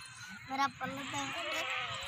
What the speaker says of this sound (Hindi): और ये नंबर 5 बकरी आ रही है माशाल्लाह